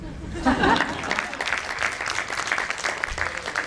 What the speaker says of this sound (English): So now I would request audience to give us feedback and assess us by clapping.